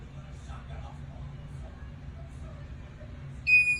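A heat press timer alarm goes off with a loud electronic beep near the end of the clip, after a stretch of low background hum.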